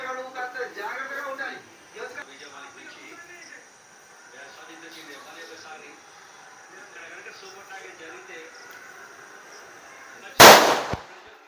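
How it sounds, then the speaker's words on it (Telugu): Muffled talking and background noise carry on quietly, then a single sharp, loud bang of a firecracker bursts near the end. "సో ఈ టపాకాయలు అయితే తీసుకెళ్ళి పేల్చుకుందాం"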